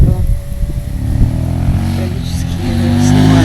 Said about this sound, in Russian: у нас здесь такие ездят мотоциклисты по полю